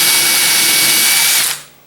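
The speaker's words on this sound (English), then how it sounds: "and I'll drill" A power drill with a center bore bit cutting into a walnut panel, one close, loud whirring bore lasting about a second and a half before the motor winds down.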